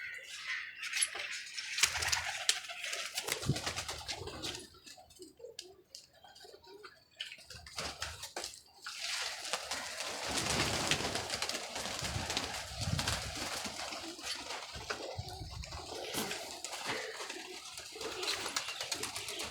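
Pigeons coo and rustle close by in a noisy coop, soft repeated calls mixed with fluttering and scratching, fairly faint under steady background clatter.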